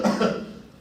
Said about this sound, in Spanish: Tos seca, solo expulsa aire